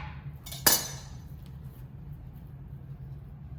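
A kitchen knife slicing an apple in half, a single sharp chop striking the cutting board, then quiet room tone.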